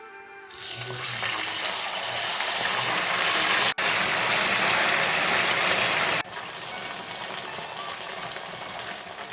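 Cornflour slurry pours into a pan of boiling water on a kitchen stove, a loud steady watery rush and bubbling that runs without a break, with a brief cut partway through and slightly quieter boiling after.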